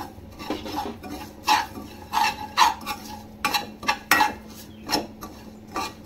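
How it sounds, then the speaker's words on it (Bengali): A spoon scrapes and clinks against a pan in irregular strokes, close up, as semolina and nuts are stirred and fried. "সুজিটা একটু ভালোভাবে ভেজে নিতে হবে, যাতে পুড়ে না যায়"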